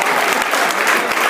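An audience claps for standing team-sport players, a brief, loud, dense burst of steady applause.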